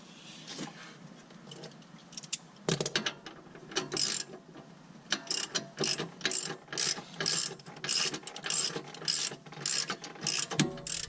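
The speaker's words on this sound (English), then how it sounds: "I'm going to take that jack on the bottom of the lower control arm, and I am going to raise it up" Repeated ratcheting clicks of a jack being pumped under the lower control arm of a Dodge Caliber SRT-4, in short uneven bursts, close and fairly loud, with metallic clatter between strokes and no speech.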